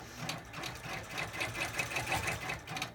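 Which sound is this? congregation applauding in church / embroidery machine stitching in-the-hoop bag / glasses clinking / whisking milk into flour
embroidery machine stitching in-the-hoop bag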